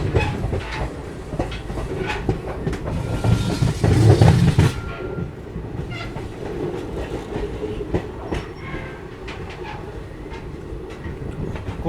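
The Sirpur Kaghaznagar Bidar Express runs steadily on its rails, a loud continuous rumble with rhythmic clickety-clack of wheels over joints and a brief heavier surge partway through.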